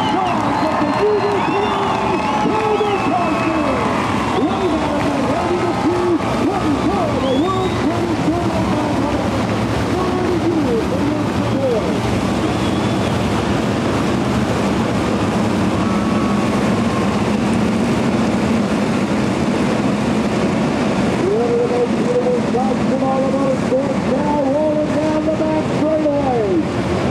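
A speedway crowd at a dirt track race cheers as the race cars arrive, a loud sustained roar with engine whine and a voice over a public address system.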